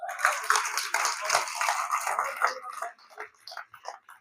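A crowd applauds at a Hindi poetry gathering, the kavi sammelan, with dense, steady clapping that stays loud for a few seconds and then thins out into scattered claps.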